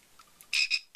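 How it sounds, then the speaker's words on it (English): A toy frog gives three loud, bright croaks in quick succession, close up, after a moment of quiet with a few faint squeaks. "Here we have a frog."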